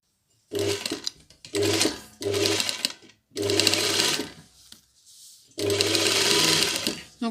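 A sewing machine stitches sweatshirt fabric for a crossover collar, running in four loud bursts of steady whirring with short pauses between them and no talk.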